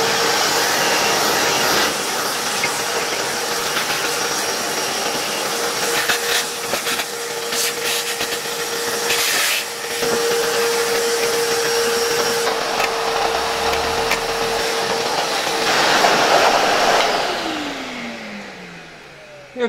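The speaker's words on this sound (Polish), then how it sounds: "Przyniosę sobie teraz odkurzacz i wyczyszczę wnętrze tego termowentylatora." A vacuum cleaner cleans the inside of an ISMET HL100 fan heater, a loud, steady motor whine running throughout. Its pitch and tone shift as the nozzle moves, and near the end the motor dies away on a falling pitch.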